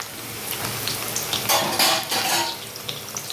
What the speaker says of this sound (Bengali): সব আলুগুলো ভেজে নিলাম একদম ডিপ ফ্রাই করে ভেজে নিলাম